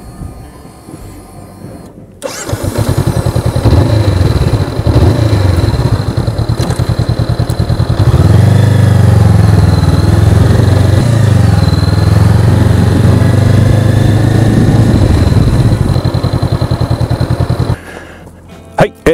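A 2019 Honda 400X motorcycle engine runs steadily for a long stretch, a loud continuous drone with a rough pulsing texture that cuts off near the end; a voice talks briefly alongside.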